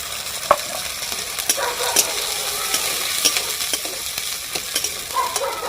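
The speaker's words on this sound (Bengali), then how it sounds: "মটরশুঁটিগুলোকে ভালোভাবে এরকম ভেজে নেব আমরা" Green peas fry in a pan with black cumin and ginger paste, a steady close sizzle with scattered pops and crackles, no talk over it.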